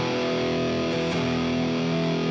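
An electric guitar plays through an AMT distortion pedal set to full gain, a thick, sustained distorted chord that rings steadily and loudly with a slight shift partway through.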